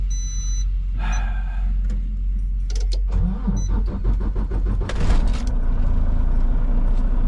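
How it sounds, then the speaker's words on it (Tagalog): A semi truck with a low battery cranks over with a strained whir before its diesel engine catches and rumbles to life, the idle settling into a loud steady drone; no one speaks. "Ay, lobat na yung aking truck. Kailangan pa andarin natin."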